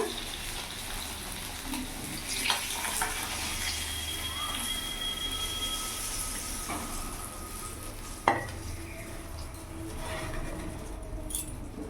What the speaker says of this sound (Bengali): মাছগুলো লাল করে ভাজা হয়ে গেছে